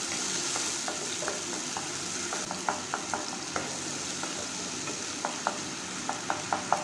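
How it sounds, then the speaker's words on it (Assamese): A ginger, garlic, tomato and green chilli masala paste fries in hot oil with a steady close sizzle, broken by a scatter of sharp clicks and scrapes as it is stirred. "এইখিনি মই প্ৰায় মছলাখিনিয়ে তেল এৰালৈকে ভাজি ল'ম"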